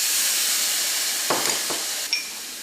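Tomatoes added to hot oil already holding sizzled chili powder for a Kerala chicken curry hiss in a steady, loud sizzle, with a few stirring scrapes and a light metallic clink near the end.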